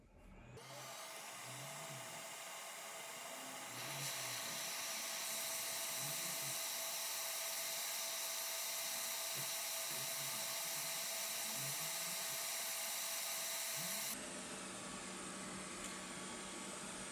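A hot air rework station set to 350 degrees and 40% airflow blows onto a motherboard IC to desolder it, a steady airy hiss with a high whine that rises a step partway through, then cuts off abruptly.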